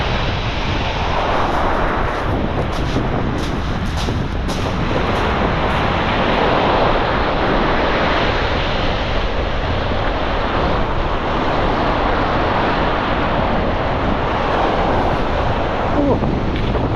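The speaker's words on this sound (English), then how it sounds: "Wind is getting up and up." Strong wind buffets the microphone on Chesil Beach with surf crashing behind, a loud continuous roaring rush that swells and eases over a long stretch.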